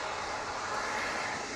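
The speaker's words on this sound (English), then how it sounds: "there goes that beautiful TUI Dreamliner" A TUI Boeing Dreamliner roars past as a steady, broad jet rush, loud and continuous throughout this short moment.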